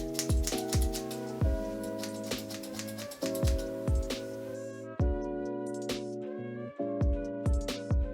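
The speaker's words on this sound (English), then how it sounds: "cut it more to the length that I'm wanting from this wig" Thinning scissors snip through the hair of a styled cosplay wig in a steady run of crisp, close metallic clicks, with several quick cuts grouped together and no talking.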